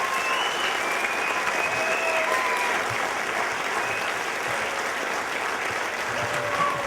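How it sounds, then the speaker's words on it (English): A school audience claps steadily for graduating seniors at an awards ceremony, a dense, even wash of many hands sustained for several seconds without pause. "can everybody just give one final round of applause to all these wonderful young people?"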